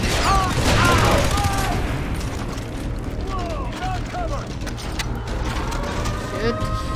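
Rapid bursts of gunfire and mechanical clatter during a firefight in Far Cry 3, dense and continuous, with someone talking and shouting over the shooting.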